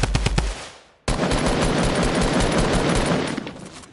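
Loud Fortnite gunfire opens with a few sharp shots, drops briefly to near silence, then erupts into a sustained, dense rattle of rapid automatic fire.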